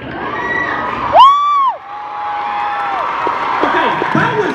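Live tour audience in Chicago cheering and clapping, with a loud whoop rising above the crowd noise, then a sustained crowd roar with scattered voices.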